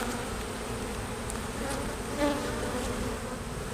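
Honeybees buzz steadily in a weak, unhealthy colony during a single brood box inspection, a close, continuous hum with a brief louder swell as bees pass near.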